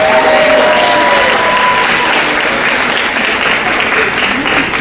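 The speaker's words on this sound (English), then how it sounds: "please applaud for your kids because they've worked really hard this year" Parents in a school hall applaud a 4th and 5th grade band performance, loud, sustained applause from a full audience filling nearly five seconds, with faint voices mixed in.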